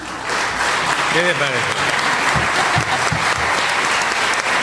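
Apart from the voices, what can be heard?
loud applause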